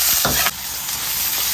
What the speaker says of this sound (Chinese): 葱姜爆香